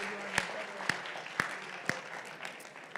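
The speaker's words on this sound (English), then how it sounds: "A big applause for Exotic." Audience applause for a team at a programming contest closing ceremony, a soft bed of crowd clapping with a few loud, sharp claps close by at a regular beat, roughly every half second.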